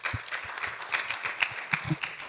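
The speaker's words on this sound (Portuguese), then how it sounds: "Mais uma salva de palmas para o Miguel." Audience applause at the end of a public talk on climate law, a steady patter of clapping hands with a few louder claps standing out, fairly close and continuous.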